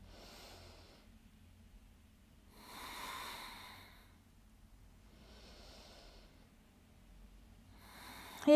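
Breathing during a downward dog yoga pose, with two slow, deep breaths heard as soft airy swells, close and quiet, separated by near silence.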